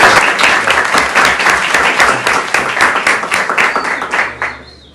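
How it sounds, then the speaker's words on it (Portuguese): Loud applause from the audience of a panel discussion, a dense and rhythmic patter of many hands that tapers off and fades near the end. "eu queria uma salva de palmas para ela"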